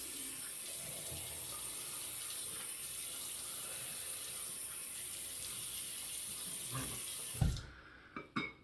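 Tap water runs steadily into a sink for close to eight seconds while a head is wet before a double-edge razor shave, then stops, leaving a few brief knocks and splashes.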